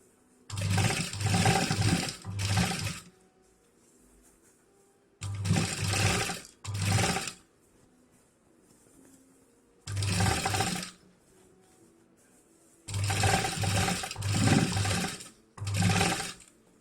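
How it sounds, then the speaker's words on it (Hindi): An electric sewing machine stitches round a fabric travel bag in five loud whirring bursts of a few seconds each, separated by short quiet pauses. "पूरा इसी तरह से हमें राउंड में इस तरह से स्टिचिंग कर लेनी है।"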